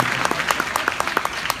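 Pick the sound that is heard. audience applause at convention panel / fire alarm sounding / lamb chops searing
audience applause at convention panel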